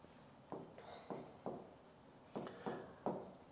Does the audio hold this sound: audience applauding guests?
no